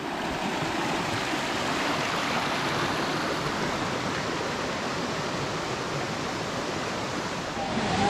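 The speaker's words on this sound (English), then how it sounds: "we're rewarded with this little river, which is really cool" A small river runs through rainforest in Litchfield National Park, a steady close rushing and gurgling of water that carries on unbroken throughout, with no voices.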